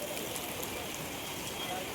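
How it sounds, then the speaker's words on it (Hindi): Heavy Mumbai rain pours steadily near an airport, a dense even hiss of drops on surfaces with no breaks. "बहुत गंदा वाला बारिश है"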